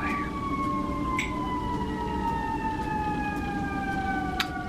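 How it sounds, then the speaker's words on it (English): Emergency vehicle sirens in a city, a loud sustained wailing tone with a second siren layered over steady traffic rumble, no talking. "There's always sirens everywhere."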